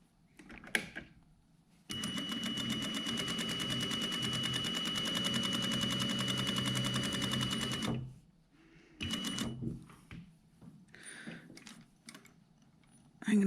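A sewing machine stitches a dart on a jacket front, a steady rapid mechanical run lasting about six seconds, close and loud, then stopping, followed by softer handling sounds of fabric and brief movement.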